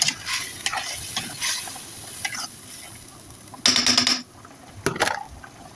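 A spoon stirs water into a cooking mixture in a pot, giving soft, continuous scraping and swishing with a couple of louder clattering bursts near the end.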